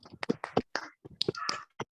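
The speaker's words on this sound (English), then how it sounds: "Still, somebody is clapping." A person claps during an online biology class, giving a rapid, irregular run of sharp, close, crisp hits over about two seconds with no talking.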